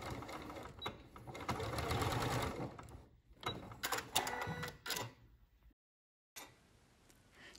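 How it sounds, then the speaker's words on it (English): A sewing machine stitches the lining seam of a small fabric bag charm, a close buzzing run broken by short pauses and bursts, likely reverse stitching, with a brief silence near the end. "stitch up to the other marked gap in the lining, remembering to reverse stitch at the end of it so that the seam is secure"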